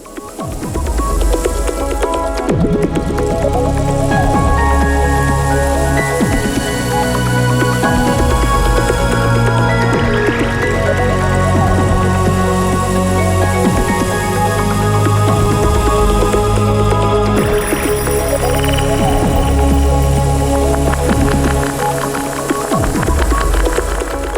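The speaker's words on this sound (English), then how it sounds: "A slow, rustling shaker sample gives the impression of waves crashing on the seashore" A slow rustling shaker sample in an electronic track, evoking waves on a seashore, sits within continuous music with sustained tones and melodic layers, loud and unbroken.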